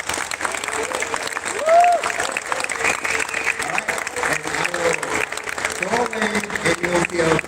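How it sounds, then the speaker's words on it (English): Audience at a Malta conference event applauding for two performers, sustained crowd clapping with cheers and overlapping voices talking through it, moderately loud and steady. "giving a big hand of applause to Youngjun and Josh from round 2"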